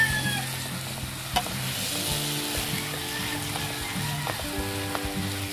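Pork picadillo seasoned with black pepper sizzles steadily in a pan while a utensil stirs it, with soft scraping and a few sharp clicks against the pan over continuous frying hiss.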